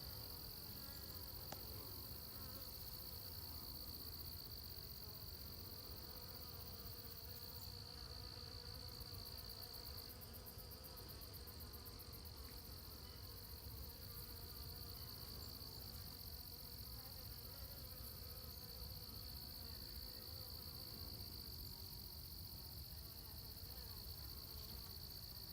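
Honey bees buzz steadily at the entrance of a struggling hive colony, a dense continuous insect hum close by with no talking, persisting unchanged throughout.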